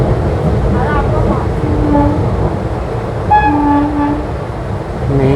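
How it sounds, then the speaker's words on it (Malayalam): Train horn sounding at Kovilpatti railway station as a Puducherry Express draws near, a couple of harmonic blasts over steady rail and crowd noise, with voices around. "മീൻകാരുടെ ഹോൺ പോലെ ട്രെയിനിൻ്റെ ഹോൺ."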